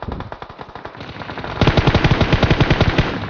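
Automatic gunfire in the PUBG Mobile shooter game: a loud, fast burst of regular shots rattling close by, growing stronger halfway through and continuing steadily to the end.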